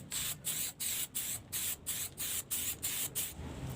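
An aerosol can sprays coating onto a carbon part for a bird cage in about ten short, even hissing bursts with brief gaps between, close and steady with no talk.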